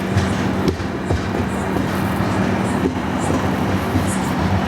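A passenger train, the Vidarbha Express, rumbles steadily into a station at close range, a loud continuous low roar of wheels and carriages with faint clanks, and no one talking over it.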